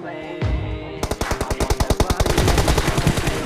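Sustained automatic AKM rifle fire in BGMI, a rapid, evenly spaced burst of loud cracking shots that runs for over two seconds, preceded by a brief whooshing swipe.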